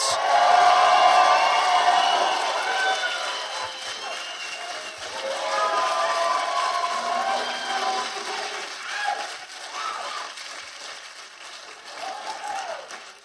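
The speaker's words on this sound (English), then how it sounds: "Please give a warm round of applause for Heath Enright." Warm applause and cheering from a live audience greeting a guest coming on stage, a dense wash of clapping and whoops that fades gradually across the span, with voices chattering over it.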